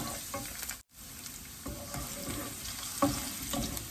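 Pork and pounded garlic stir-fry in a pan with a broad crackling sizzle, broken by a brief silent gap and a few sharp scrapes and clinks of stirring, close and fairly quiet.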